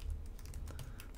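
Quick keystrokes on a computer keyboard tap out a command, a brief close run of light clicks over a soft background hum.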